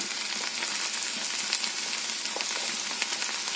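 Turmeric, black pepper, fennel, garam masala and fenugreek powders dry roasting in a pan for an okra masala, a continuous soft crackling sizzle with faint stirring, close and steady.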